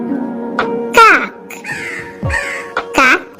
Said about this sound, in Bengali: কাককে ইংরেজিতে বলে ক্রো।